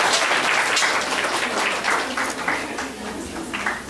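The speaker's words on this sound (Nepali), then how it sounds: "जोरदार तालीले उहाँलाई स्वागत गरौँ" A crowd claps loudly and steadily to welcome a guest at a cooperative savings and credit society's member education programme, the dense applause holding for several seconds.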